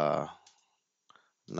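A computer mouse gives a quick, soft pair of clicks in a quiet pause between bursts of someone talking.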